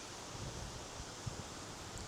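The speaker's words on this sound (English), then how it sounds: "It is quite windy today" Wind gusting on Lamai Beach on Koh Samui, Thailand, a steady faint rushing hiss with soft low buffeting bumps against a lavalier microphone.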